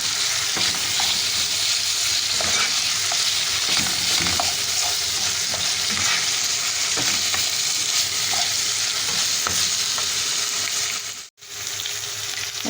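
Two crushed garlic cloves frying in a pan give a steady, bright sizzle with occasional stirring scrapes and small pops, close and continuous, then a brief drop-out near the end.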